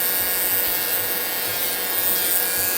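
A cheap electric nail drill running at maximum speed grinds off gel nail polish, giving a loud, continuous high-pitched whine and steady abrasive filing with no pauses.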